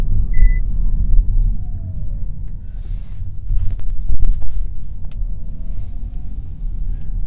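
MG5 electric estate car driving on the road, a steady low road and tyre rumble with faint interior creaks and a few brief clicks, no engine note.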